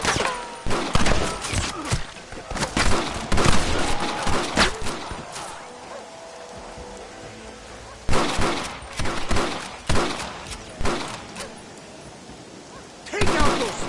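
Gunfire rips through a shootout in Red Dead Redemption, with loud clustered volleys of shots in bursts separated by quieter gaps, close and sharp, and shouting voices mixed in at times.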